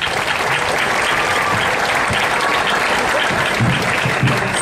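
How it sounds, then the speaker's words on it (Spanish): A crowd applauds at an outdoor public school event in Monjas, Jalapa, a dense, loud and continuous clapping roar that holds steady throughout, with faint voices mixed in. "un aplauso."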